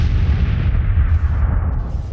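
Booming artillery fire from the mining strategy game Miner's Mettle on a desert map, a dense, loud low-end rumble sustained through the whole short stretch with no speech.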